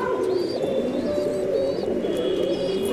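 A domestic pigeon held in a person's hand gives soft, close coos and short chirps over a steady low background rumble, with no talking.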